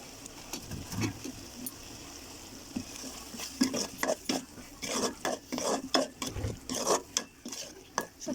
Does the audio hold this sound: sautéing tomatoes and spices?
yes